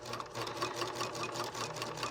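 A sewing machine runs steadily while stitching a project bag, a continuous close motor hum with a fast, even needle rhythm and no pauses.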